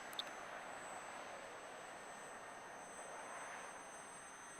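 An RC model airplane fitted with a gyro stabilizer flies steadily on a nearly calm day, its engine a continuous, fairly faint drone holding an even pitch throughout, with no voices.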